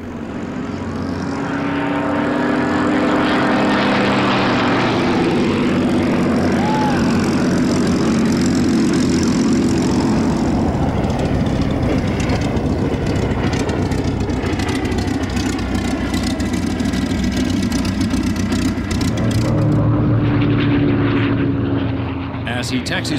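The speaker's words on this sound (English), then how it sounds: "The Hurricane's a very easy airplane to land compared to a lot of the other fighters." Hawker Hurricane fighter with a propeller engine landing at an airshow, a steady loud drone that holds throughout, with a commentator talking over it.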